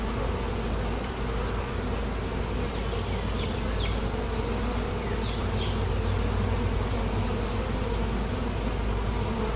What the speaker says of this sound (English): The bees get between the frames in order to bring them together.